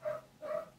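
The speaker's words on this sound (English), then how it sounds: "when I catch this dog and it's barking" Two short, close barks from a dog, each with a tonal, slightly whining edge, evenly spaced apart and fairly quiet, with no talking.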